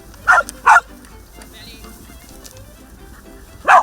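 A Pumi herding dog gives three sharp, close barks, two in quick succession at the start and one more after a pause, with quiet room noise between.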